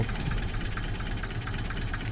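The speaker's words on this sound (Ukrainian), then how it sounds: "Так, моторчик шепче. По моторчику перероблено ось масляний фільтр. Моторчик 402." An idling car engine, a model 402 motor with a reworked oil filter, runs as a steady, close, low rumble that stays even throughout, with no talk.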